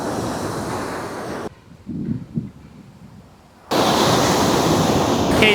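Surf on Zona Romantica beach in Puerto Vallarta, a loud steady wash of waves with heavy wind buffeting, dropping away briefly mid-clip before the full roar returns; no talking.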